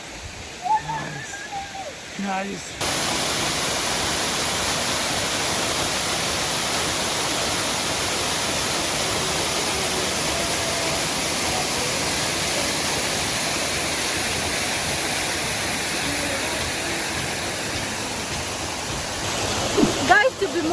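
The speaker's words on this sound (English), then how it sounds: "we have the waterfall to ourselves!" Waterfall on the Oloolua Nature Trail in Nairobi, a steady broadband roar of falling water that stays loud and constant, with brief talk at the start and end.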